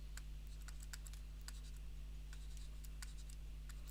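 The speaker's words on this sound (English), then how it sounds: "I'm going to write this" Pen writing an equation on a surface, faint light scratching taps in irregular bursts over a steady low hum, no voices.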